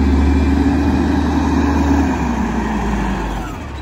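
A Volvo WX refuse truck with a Bridgeport Ranger automated side loader revs its engine, a loud steady low rumble that eases off toward the end, with no voices.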